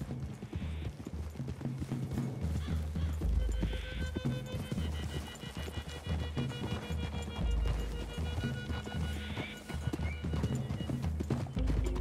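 Horses trot through a wooded clearing in the Red Dead Redemption 2 video game, with steady clip-clop hoofbeats and occasional whinnies over a continuous bed of game ambience and music, loud and close throughout.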